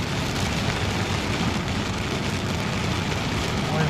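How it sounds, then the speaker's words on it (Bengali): Steady rain in Al Ain, United Arab Emirates, hissing continuously, an even broadband wash of falling water at constant loudness, with no voices. "ওয়াও বৃষ্টি ওয়াও"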